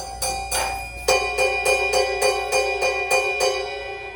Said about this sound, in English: Now, listen to the bell.